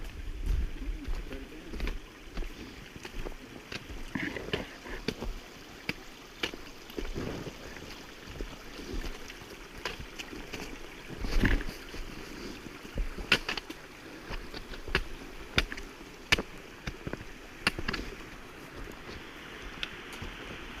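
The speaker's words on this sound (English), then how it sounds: "Pretty little cascading little waterfall there." A small cascading waterfall in a mountain creek on the Eagle Rock Loop trail in Arkansas rushes steadily at moderate distance, an even wash of water with scattered faint clicks.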